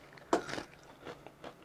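Someone bites into crispy fried chicken breast with a honey-mustard signature sauce: one sharp, close crunch, followed by softer, quieter chewing sounds.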